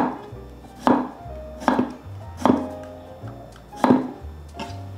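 Knife chopping small cucumbers on a cutting board, several crisp thudding strikes in an uneven rhythm, close and fairly loud with no talking.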